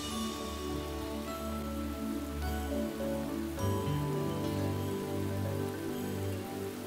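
Steady monsoon rain falls continuously under a soft layer of background music, a constant even hiss with no voices.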